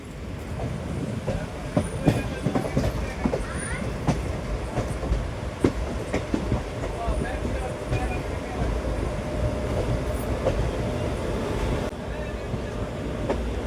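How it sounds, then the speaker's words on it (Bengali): A passenger train running after leaving a station, heard from on board at night, rumbles steadily with rhythmic wheel clatter and occasional squeals, while voices talk in the background. "ট্রেনটা আপনি ছেড়ে দিল।"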